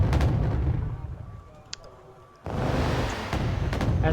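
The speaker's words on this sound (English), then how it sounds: "brings in his artillery, and bombs the place at the same time" Artillery bombardment in Wargame Airland Battle, heavy booming impacts and rumbling blasts, loud and close, dipping into a brief quieter stretch before another strong barrage erupts, with no talk.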